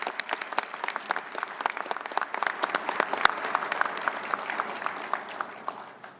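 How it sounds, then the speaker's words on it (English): Steady applause from an audience at a Navy luncheon awards ceremony, dense clapping filling the room for about six seconds at an even, sustained level. "Round of applause, please."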